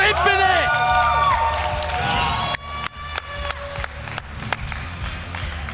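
A Halo esports crowd at DreamHack Anaheim 2020 cheers, whoops and shouts loudly at first, then settles into scattered clapping and applause, with voices mixed through the noise.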